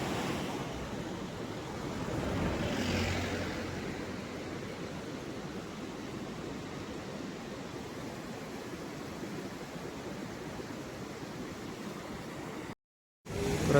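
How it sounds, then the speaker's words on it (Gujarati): A muddy, rain-swollen mountain river rushes past at full speed near a road, a dense, steady roar of water that holds constant before cutting out briefly near the end. "ને બાજુમાં નદી જાય છે"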